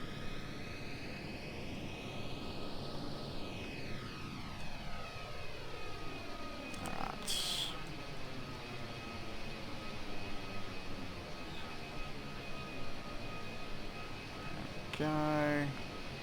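McDonnell Douglas DC-10 jet engines taxiing in FSX: a continuous, even engine roar and whine whose pitch shifts slowly, with a short voice near the end.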